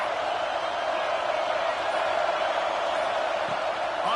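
A football stadium crowd during the tight, tied final quarter of an Ole Miss at Georgia game keeps up a constant, dense roar with no breaks, sounding distant and even throughout.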